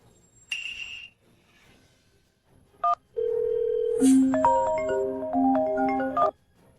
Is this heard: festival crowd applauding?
no